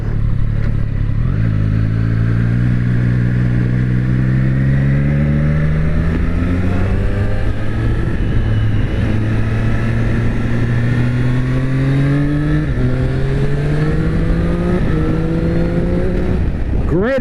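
Triumph Street Triple RS 765 motorcycle, 2024 Moto2 Limited Edition, accelerating hard through the gears, its engine note climbing in pitch with repeated rises between shifts, loud and close throughout with steady wind rush.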